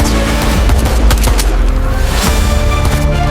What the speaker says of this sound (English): the sound of incoming rounds deafening